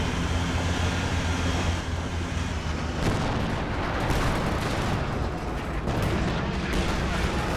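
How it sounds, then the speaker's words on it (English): Bazooka fire rips through a busy Company of Heroes 2 battle as a dense, continuous roar of explosions and gunfire, with heavy booms rolling one into another and no break in the din. "Oh, bazookas coming in from the side."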